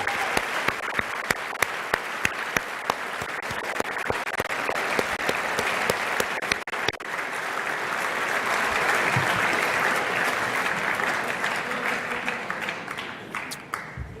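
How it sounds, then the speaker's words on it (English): Sustained applause from an audience at an awards reception honoring award recipients, dense and steady for about fourteen seconds with a few sharper claps at the start and a slight swell near the end. "let's go ahead and give an applause for everyone who received one and also for the people here"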